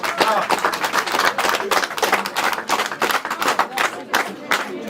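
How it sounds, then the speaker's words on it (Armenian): Wedding guests break into loud, sustained applause for the couple, dense clapping from a full room with crowd voices mixed in, steady for the whole stretch. "ես ուզում եմ ևս մեկ անգամ բարձր ծափարենք հենց մեր երկու հրաշքների համար"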